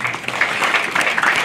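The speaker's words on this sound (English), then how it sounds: "graduates, let's give them a big round of applause" Crowd applause at a 2022 high school graduation ceremony, honoring the graduates' families; dense, steady clapping from many hands fills the whole moment without a break.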